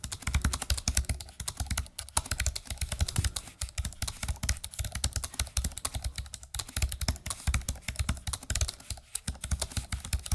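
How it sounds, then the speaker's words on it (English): Fast, continuous typing on a Razer optical keyboard fitted in a Blade laptop, with dense, audibly clicky keystrokes that are lighter than a mechanical clicky switch, heard close and alone, with only brief pauses. "These are audibly clicky, but not nearly on the same level as like a clicky switch in a mechanical board."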